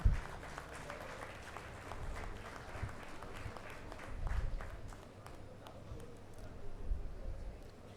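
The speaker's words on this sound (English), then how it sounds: "A big round of applause for all of them, please." An audience at a university convocation ceremony applauds graduates with steady clapping that swells and fades in waves, filling the hall at moderate loudness.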